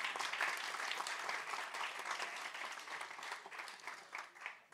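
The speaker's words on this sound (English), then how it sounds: "so let's give him a round of applause." A crowd at a banquet applauds steadily, a dense patter of many hands clapping at moderate distance that thins out slightly toward the end.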